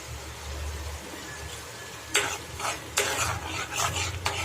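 Chili powder being stirred into a frying elephant foot yam masala, with a steady low sizzle and several sharp scraping strokes of a spoon against the pan in the second half, close and alone.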